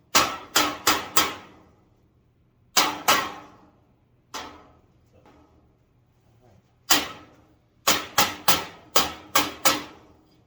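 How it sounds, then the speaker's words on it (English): Sharp hammer strikes drive 3-tier metal garage shelving into place, ringing out in quick bursts of three to five separated by pauses, each hit bright and metallic with a short ringing tail. "And just kind of push them down. Give them a good hammer."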